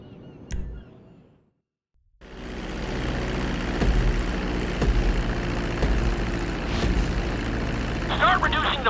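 A plane flying in the video game GTA V during a landing lesson, a steady engine drone that starts abruptly after a brief quiet gap and holds loud and even to the end, with faint game voice at the start.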